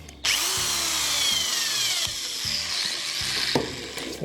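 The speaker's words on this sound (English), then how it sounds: "Right, drill the other side." A power drill whines steadily through timber, close and loud, with brief pauses and a final burst as the bit breaks through.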